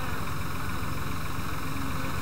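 A tractor engine in the farming video game Farming Simulator 2013 runs continuously, a dense, steady mechanical drone with a constant loud rumble and no breaks or talking.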